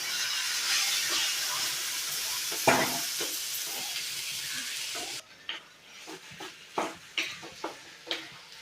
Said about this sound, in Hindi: देखिए इस तरह से इसे अच्छी तरह से हमें भूनना है।